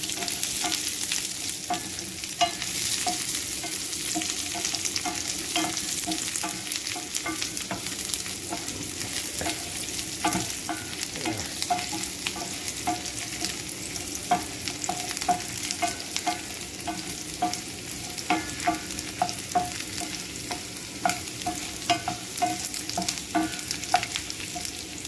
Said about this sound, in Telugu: చూడండి ఫ్రెండ్స్, మంచిగా వెల్లుల్లి, ఎండుమిర్చి ఫ్రై అయిపోయినాయి